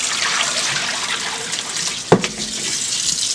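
Oxtail meat being rinsed under a running tap in a kitchen sink, a steady splashing hiss of water with a sharp knock partway through, close and with no talking.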